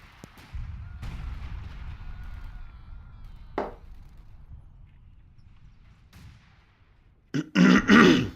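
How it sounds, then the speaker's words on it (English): Mortar rounds firing and impacting in a WWII strategy game battle around Caen, a few sharp isolated thumps spread over a quiet low rumble, ending in a louder burst of battle noise. "Mortar sounding off here, trying to get the MGs out"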